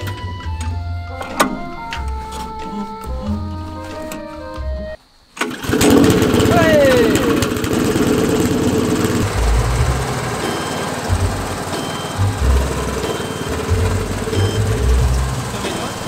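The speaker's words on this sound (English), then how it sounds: "That shows you how easy these mowers are to use." A petrol push lawn mower on a home lawn fires up after a brief silence and runs with a loud, rough, steady engine drone; faint clicks and mechanical sounds come before the start.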